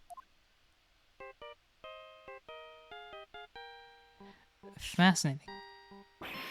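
Electronic phone ringtone in the video game Ace Attorney Justice for All, a sequence of short synthesized beeping tones in a melodic pattern, clear and up front, with someone briefly speaking over the end.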